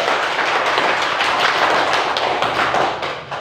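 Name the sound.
audience clapping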